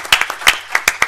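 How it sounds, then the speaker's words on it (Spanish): A handful of sharp, sparse claps from a panel-discussion audience applauding a speaker, close and distinct, lasting only about a second. "Pues un aplauso también para Javier."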